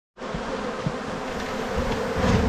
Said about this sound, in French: On voit qu'il y a pas mal d'abeilles dedans